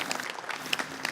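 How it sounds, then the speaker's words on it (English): Brief, fairly quiet applause from the crowd at a sports Hall of Fame induction ceremony, scattered claps blending into a soft continuous patter. "Give him a round of applause."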